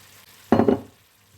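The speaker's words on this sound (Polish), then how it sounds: "Wrzucamy pozostałe warzywa." Remaining vegetables drop into a pot of vegetable broth in one short, muffled tumbling thud with a brief splash, after near silence.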